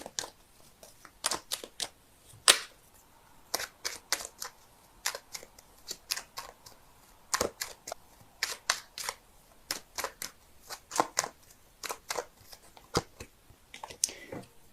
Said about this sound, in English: give me a sec while I shuffle